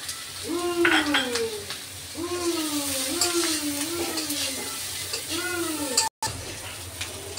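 Onions sizzle steadily in a pan for a shrimp dish. The frying hiss runs throughout while a voice talks over it, and there is a brief dropout near the end.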